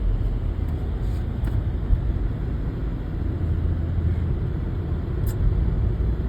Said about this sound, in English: A lot of cars on the road because it's Friday.